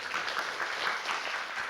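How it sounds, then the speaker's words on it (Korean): Quiet, steady applause from an audience welcoming panelists at a 2022 Busan International Film Festival forum session, a soft continuous patter of many hands heard from a distance. "박수로 맞이해 주시기 바랍니다."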